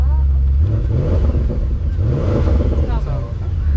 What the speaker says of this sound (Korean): Of course we start the car first.